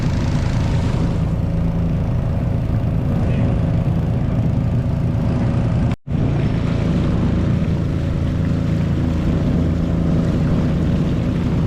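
A motorised fishing boat in Kuttanad runs along a canal, its engine droning steadily and close for the whole stretch, broken only by a momentary cut near the middle.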